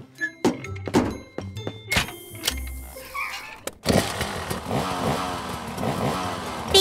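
Cartoon motorcycle noises from a children's animated garage show: a string of clunks and thumps, then a sustained broadband engine rumble as the bike rides off on the open road, fairly loud with no talk.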